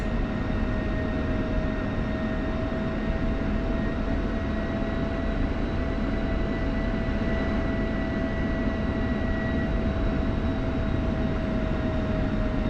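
Steady, loud F-16 jet engine drone from a flight simulator game with the throttle advanced, a constant broadband roar with faint whine tones held evenly throughout, no talking.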